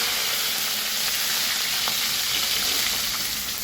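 Mustard seeds, cumin and curry leaves sizzle steadily in hot oil for an avial tempering, a dense, even crackling hiss close up with a few faint pops and no voices.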